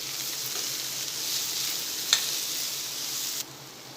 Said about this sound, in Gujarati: હવે એમાં આપણે ટોપરાનું છીણ એડ કરીશું